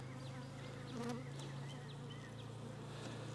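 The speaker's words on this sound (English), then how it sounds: "Seem to be fairly good bees. They're hitting me a little bit" Honey bees buzzing steadily around a beehive during a hive check, a dense continuous drone of many insects close by, with individual bees zipping past.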